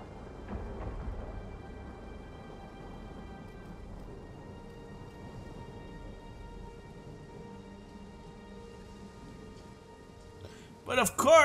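Steady rain falling across a battle map in Total War, a continuous soft hiss of drops with faint low rumbles, holding even for most of the stretch before a few louder bursts near the end.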